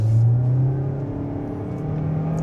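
A 2025 Kia Soul EX Soulmate Edition with a CVT accelerates in normal mode, giving a steady low engine drone and whir heard from inside the cabin, with no talk.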